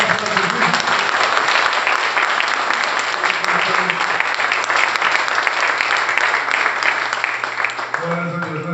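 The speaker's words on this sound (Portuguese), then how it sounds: "Vamos dar uma salva de palmas para Jesus." Church congregation applauding during an evening worship gathering, a steady dense wash of clapping sustained throughout, loud and close, with voices mixed in.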